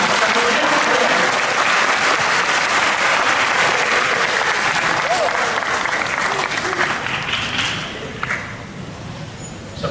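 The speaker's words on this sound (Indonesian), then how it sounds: "mari kita ucapkan selamat datang sehangat-hangatnya kepada Bapak Menko Polhukam Profesor Mahfud MD dengan tepuk tangan" A large audience at UIN Sunan Kalijaga applauds to welcome Professor Mahfud MD, the coordinating minister, with loud, sustained, dense clapping that tapers off near the end, and some speech can be heard underneath.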